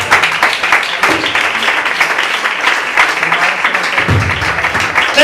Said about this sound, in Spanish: Vamos a dar un fuerte aplauso a Dios y el hermano Ismael.